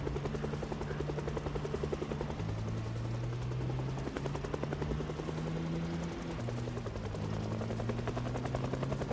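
A helicopter in the video game Project Zomboid flies overhead, its steady rotor chop loud and continuous throughout, with a droning engine tone that shifts slightly in pitch, heard alone without talk.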